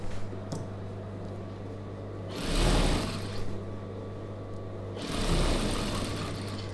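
A sewing machine sews a straight half-inch seam on a star-neck chudidhar, running in two short whirring bursts over a steady low hum, with quiet gaps between them.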